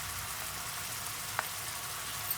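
Onions with garlic and ginger paste frying in hot oil: a faint, even sizzle with a light crackle and one brief tap partway through.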